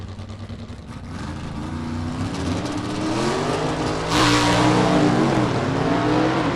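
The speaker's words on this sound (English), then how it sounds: "First pair of gassers down the track as we see them." Gasser drag race cars launch down the track at South Georgia Motorsports Park, a loud, rising engine roar building steadily as the pair accelerates away, with a sharp surge of power midway through.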